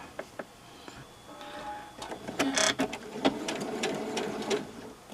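Sewing machine starting up and stitching a fabric face mask, beginning with a few isolated clicks and then running in short, close bursts of rapid mechanical chattering with brief pauses.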